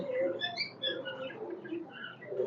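A pair of Pakistani teddy pigeons, a male and a female, give soft, low repeated coos close by, with light rustling and a few faint higher chirps mixed in.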